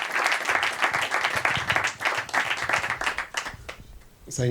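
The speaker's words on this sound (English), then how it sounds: "please give him a big applause to Professor Kanis" A lecture audience applauds after introducing a visiting professor, a full burst of many hands clapping with a few voices mixed in, thinning out toward the end.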